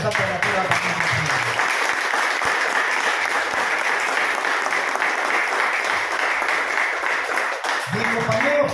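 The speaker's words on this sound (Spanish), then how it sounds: "Quiero pedir palmas por la prensa alternativa también." A crowd at a national political forum applauds steadily and loudly, a dense continuous wash of clapping lasting nearly nine seconds, with brief talk at the start and end.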